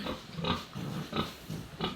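Pigs being readied for market grunt in short, close bursts, about four rough snorts spaced evenly over a couple of seconds.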